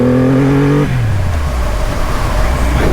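A Triumph Rocket 3 R motorcycle accelerates up a slightly uphill on-ramp, its engine note rising in pitch before a gear change drops it, then building again as a loud, steady drone close by.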